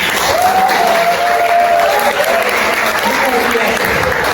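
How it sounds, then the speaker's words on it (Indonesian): A classroom audience applauds, with dense loud clapping from many hands filling the whole stretch and a voice or cheer rising briefly above it. "Tepuk tangan dulu."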